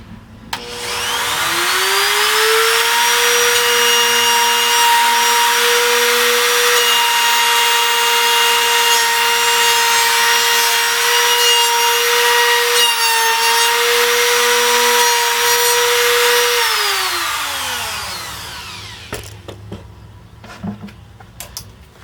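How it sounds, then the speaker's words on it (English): A handheld router fitted with a bearing-guided bit cuts along a scrap piece of wood, a steady loud motor whine with cutting noise lasting about sixteen seconds, then spinning down, followed by a few light clicks and handling sounds. "I've got a scrap piece of wood here, and I've got my router with my bit, with my bearing and my depth set"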